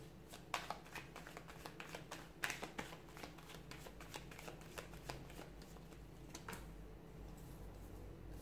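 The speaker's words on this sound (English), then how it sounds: "give the cards a shuffle" A deck of cards is shuffled repeatedly, crisp riffles and flicks in quick irregular bursts, close and fairly quiet against a faint background.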